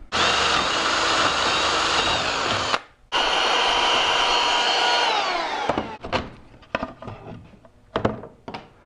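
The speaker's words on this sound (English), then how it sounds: "I'm using 5/16 inch drill bit." A power drill with a 5/16 inch bit whines steadily as it bores through plywood, stopping briefly midway, then restarting before trailing off into scattered clunks and handling noises.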